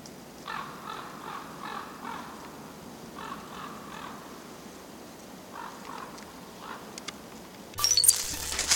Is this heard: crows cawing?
yes